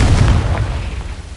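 Confringo blasting spell explosion in Hogwarts Legacy, a single heavy low boom at the start that rumbles and slowly fades over about a second and a half, with no talking.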